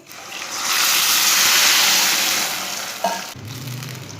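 Water poured into a hot pot of sugar and vermicelli for seviyan, a loud rushing splash that swells for a couple of seconds then fades, followed by a short clank and low simmering.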